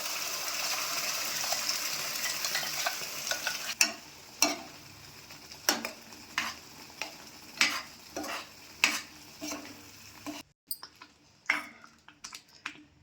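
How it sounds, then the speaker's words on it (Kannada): Ground masala paste with red chili powder sizzles in a pan for paneer and pea masala. A spoon stirs it with a steady fry hiss and repeated sharp scrapes and clicks, and the sizzle thins out near the end. "ಆಗಲೇ ಮಿಕ್ಸಿ ಮಾಡ್ಕೊಂಡ್ಬಂದಂತಹ ಪೇಸ್ಟನ್ನು ಹಾಕೋಣ."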